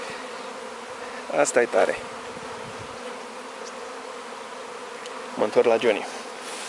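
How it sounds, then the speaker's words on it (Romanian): A large swarm of honeybees drones in a steady, close buzz throughout, while two short bursts of Romanian speech cut in over the hum. "În timp ce culeg un roi, se așează un altul."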